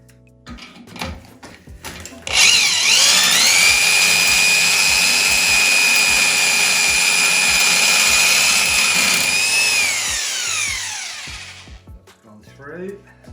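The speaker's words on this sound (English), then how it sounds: "I'm just gonna try and drill them out. So I'm gonna carry on drilling it out." Power drill with a 3mm bit drilling out bolts during a cottage fireplace project, a high, steady whine rising after a few clicks and running about eight seconds before spinning down, with brief handling noises before and after.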